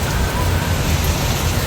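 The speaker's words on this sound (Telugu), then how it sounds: "చాలా పెద్ద వర్షం పడుతుంది." A downpour of heavy rain falls at a family home, its thick, even hiss sustained without a break through the short stretch.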